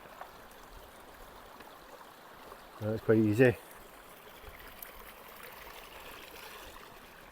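A small river in the Scottish Highlands flows steadily on a hot summer day, its even rushing and trickling heard close by throughout, with someone speaking briefly partway through.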